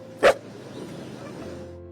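A dog gives a single loud, sharp bark near the start, followed by a low steady hum and quiet background.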